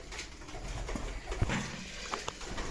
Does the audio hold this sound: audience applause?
no